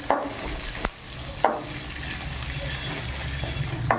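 Crushed garlic fries in oil with a steady, close sizzle, broken by a few sharp clinks of a utensil against the pan.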